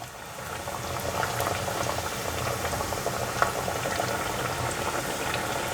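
Yam and tofu deep-frying slowly in hot oil, a steady dense bubbling hiss that holds for the whole stretch with a faint clink near the middle.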